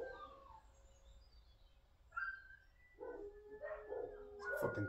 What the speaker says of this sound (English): fucking dogs barking and shit